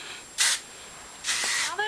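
Two short bursts of hairspray hiss, close by, while styling loose curls, separated by a pause, the second longer than the first.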